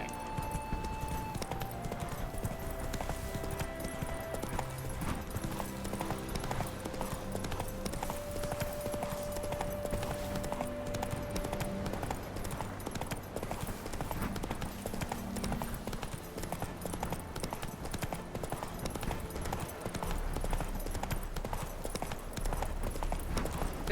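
Horse hooves gallop in a steady clip-clop rhythm through The Witcher 3, continuous and prominent over a soft game music bed for the whole stretch.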